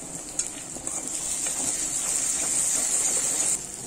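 Spice masala with bottle gourd stirred in a hot pan, a steady bright sizzle running throughout with soft scraping strokes beneath, close and fairly even in level.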